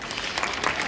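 Dense clapping from an audience at a school event, a brief steady burst of applause.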